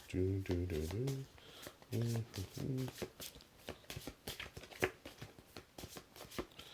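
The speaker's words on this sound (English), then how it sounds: "So I'm gonna continue shuffling these." Playing cards are shuffled during a live card game playthrough, heard as quick riffling bursts and soft slaps that repeat between and under a person's talking.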